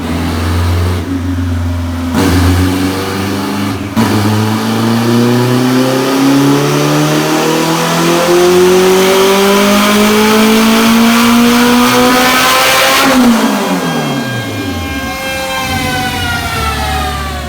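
A turbocharged GSR sedan engine on a dyno pass, loud and close, climbing steadily through the revs in one long pull, then dropping sharply off throttle with a fading, burbling decel.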